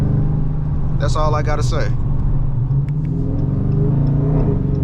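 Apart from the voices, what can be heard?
cammed 2022 Dodge R/T engine rumbling and revving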